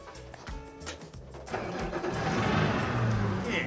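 A boat engine cranks and catches at a boating licence training ground, a stuttering start that swells into a steady loud running drone nearby.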